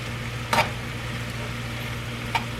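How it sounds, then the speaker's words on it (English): Beef and broccoli tossed and stirred in a hot pan, a soft continuous sizzle with two sharper scraping clatters, close and alone. "Let's toss this around a little bit so we can get everything mixed up in there."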